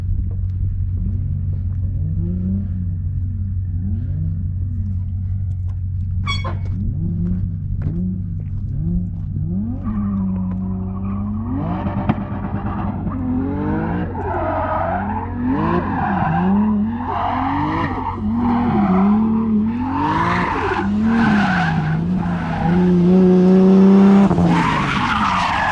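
A Nissan S15 drift car at full throttle revs hard with repeated rising and falling engine pulls and loud squealing tires, growing louder and closer through the run.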